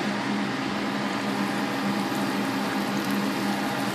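A steady, dense crackle and hiss of pork chops deep frying in hot oil in a frying pan, continuous and close with no pauses, and no voices.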